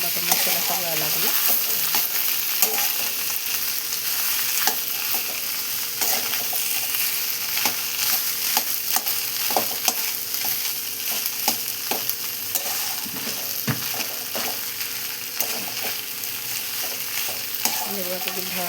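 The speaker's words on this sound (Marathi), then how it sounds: "म्हणजे आपलं चटणीला छान पद्धतीने सगळा कांदा टमाटर मसाला सगळा लागला" Onion, tomato and masala stirred and frying in a pan for a potato bhaji, giving a steady loud sizzle with repeated scraping stirs throughout, close up and without talk.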